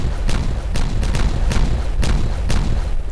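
Dynamite blasts go off in Timberborn as a string of heavy, booming detonations, about six deep thuds in quick succession over a continuous low rumble, loud and close.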